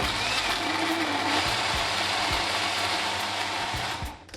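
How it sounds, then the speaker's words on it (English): A blender whirs steadily through a mango and lime chicken marinade, a close, continuous motor drone that holds at an even level and then cuts out at the end. "Now you want to cover and blend this until nice and smooth."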